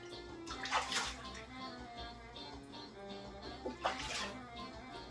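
Restored Aritsugu yanagiba knife being rinsed under running water, with two louder splashing surges over a steady faint flow.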